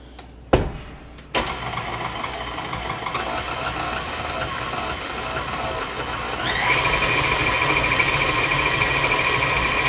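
An electric mixer whirs into an egg and cookie dough for white chocolate cranberry orange cookies. After a couple of sharp clicks, a steady motor hum runs, then shifts to a higher, louder speed partway through. No voices.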